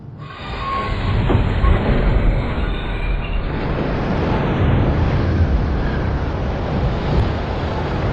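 A train rushes past at 160 km/h during a speed test, a loud, steady roar of wheels and wind that builds quickly and holds.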